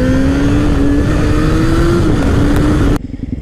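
A Honda CBR 1000RR sport motorcycle revving hard, a loud, close, sustained engine drone that climbs slightly in pitch before cutting off abruptly near the end.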